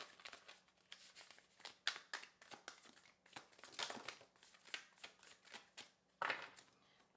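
Tarot cards are shuffled quietly and steadily up close, a dense run of soft papery flicks and taps with a few louder riffles.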